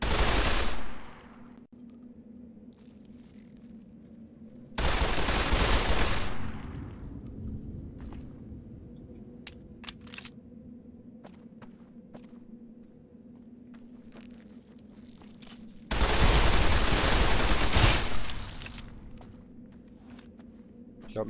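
Gunfire in Fallout: New Vegas comes in three loud, dense bursts of rapid shots, each lasting a couple of seconds and separated by quieter game ambience.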